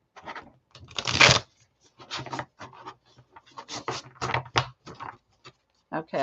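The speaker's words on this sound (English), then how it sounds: "I'm doing kind of a bad job at shuffling these because they're so freaking big." Oversized, wide oracle cards being shuffled by hand, a run of soft papery riffles and rubbing slides, close and moderately loud, with someone talking over parts of it.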